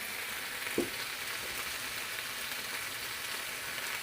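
Bacon frying in a pan, a dense, even sizzle held close throughout, with one brief tap near the start and no talking.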